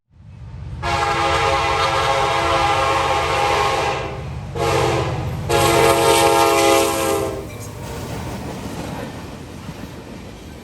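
A CSX manifest freight train on the Garrett subdivision near Garrett, Indiana rumbles past loudly while its horn blasts in two long sustained calls, the second after a short break, with the rail roar fading off afterward.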